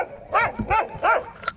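A guard dog near a lagoon barks three times in a loud, close, evenly spaced burst, then gives a shorter yelp.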